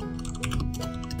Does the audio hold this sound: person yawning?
no